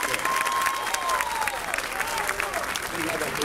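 Guests at a wedding ceremony break into sustained, dense applause that rolls on evenly throughout, with faint voices and cheers mixed into the crowd noise.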